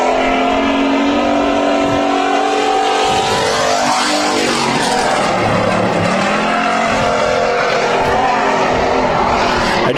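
A midget race car circles a dirt oval at Bakersfield Speedway, its loud engine rising and falling in pitch as it passes close by, with a sweeping Doppler shift mid-clip.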